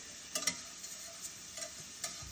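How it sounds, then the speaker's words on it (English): Onions for a shrimp Alfredo cook down in a pan with a faint, soft sizzle, broken by a few light scrapes and taps of a utensil stirring them. "Let these onions cook down for a minute"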